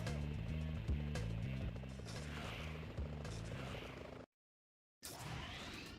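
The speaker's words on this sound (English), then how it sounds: "Oh, police choppers." Police helicopters in a Spider-Man video game: a steady rotor chop and engine roar fill the scene, loud and continuous with game music under it, cutting out briefly before resuming.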